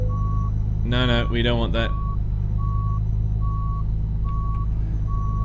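Truck reversing beeps in Euro Truck Simulator 2, a steady evenly spaced tone repeating over a low engine drone while someone speaks briefly near the start.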